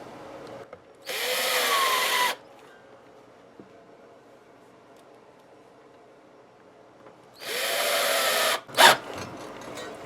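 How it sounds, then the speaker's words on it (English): A power drill with an extra-long bit bores through a Stratocaster guitar kit body, whirring in two long bursts, several seconds apart, loud and close, with quiet pauses between. "Make sure you got an extra long drill bit for this."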